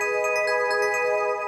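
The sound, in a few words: Nexus DX era bell synth preset with delay and reverb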